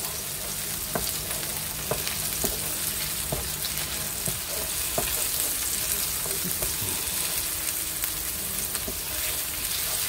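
Broth poured into a pan of sautéed garlic and tomatoes keeps a continuous soft sizzle and frying crackle going, punctuated by several light utensil taps against the pan throughout.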